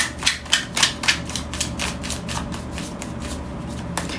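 Tarot cards are shuffled and drawn by hand, opening with a quick run of crisp riffling snaps that settles into a softer, steady shuffling rustle, close and alone.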